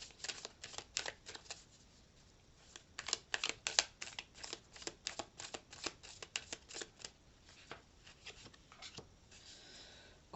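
Tarot cards being shuffled for a reading, with a long run of rapid crisp riffling flicks that are close and fairly quiet and come in bursts with brief gaps.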